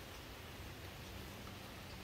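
Rain falls steadily outdoors on a chilly day, a soft, even hiss of drops with no other sounds standing out.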